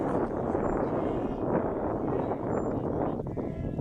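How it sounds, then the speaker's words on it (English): Steady wind roars and buffets against the microphone throughout a baseball game on a windy afternoon, a constant low rumble with no clear voices. "Windy Monday afternoon."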